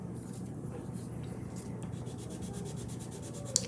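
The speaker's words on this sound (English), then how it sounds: "I'm going to start first by coloring in this sandy area." A peach colored pencil rubs steadily across paper as a sandy area of a lighthouse drawing is colored in, a soft continuous scratching up close, with a faint click near the end.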